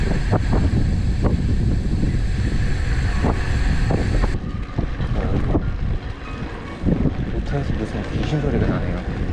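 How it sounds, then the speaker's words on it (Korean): Wind buffets the microphone in heavy, rumbling gusts throughout, with a person talking over it and water-like wash in the background, near boats in Carlingford, Ireland. "소리가 나네요. 바람이 부니까"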